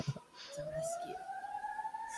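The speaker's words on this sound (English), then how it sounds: "I hear sirens in the background." Emergency siren wailing in the background outside a condo building during a fire alarm evacuation, a steady rising tone sustained throughout at moderate distance, with faint voices nearby.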